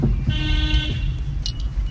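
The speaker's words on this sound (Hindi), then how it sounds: "लॉन्ग हॉर्न प्रेस करो।" A steady car horn sounds for under a second over rumbling engine and road noise inside a car during a beginner driving lesson.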